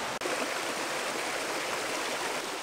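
A river with small waterfalls and pools rushes in a steady, broadband wash of water, loud and continuous with no voices.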